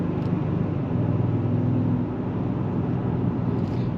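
Sport exhaust of an Audi S6 TDI diesel with 349 horsepower, a loud, steady low rumble droning continuously up close with no break.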